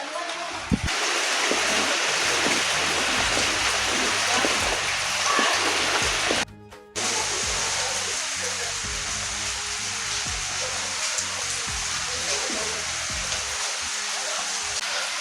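Heavy rain falls in a steady, loud wash with splashing on surfaces, broken by a brief gap of near silence midway before the downpour resumes.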